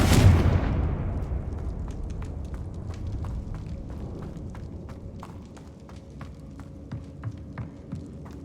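Spell explosions from Incendio and Confringo in the game Hogwarts Legacy: a heavy boom opens and rumbles away into a long decay, then light footsteps and small clicks tap on under a low ongoing rumble.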